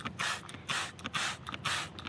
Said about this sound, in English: You're just gonna spray and let this stuff,